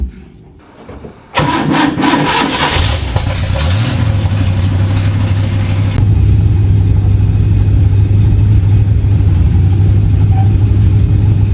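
An old Ford Falcon Ranchero pickup engine cranks loudly and catches, then settles into a steady rumbling run that continues strongly to the end, close by.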